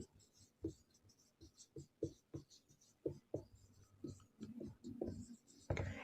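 Pen scratching across paper while writing out a report answer, a run of short soft strokes and taps at close range, irregular in rhythm, with no talking.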